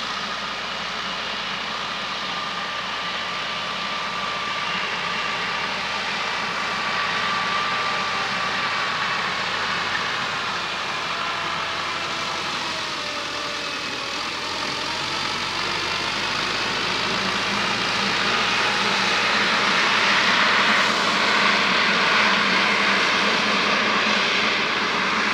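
A tractor engine drones steadily while turning around in a misty field near an apiary, a continuous mid-distance rumble with a faint whine that swells slightly louder near the end.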